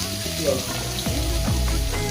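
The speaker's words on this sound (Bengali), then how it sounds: "পেঁয়াজটা একটুখানি ভাজা করে" Onion frying in oil for a Bengali potato dish, a steady close sizzle with a few soft scraping touches, continuous and fairly loud throughout.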